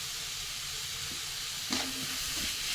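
Crushed garlic, ginger, green chilli and curry leaves fry in hot oil for a cabbage curry, a steady hiss with a single utensil scrape partway through.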